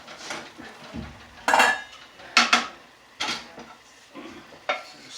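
A metal frying pan is set onto a stove, several sharp clanks and rattles of cookware spaced a second or so apart, close and fairly loud, with quieter shuffling between them and no speech.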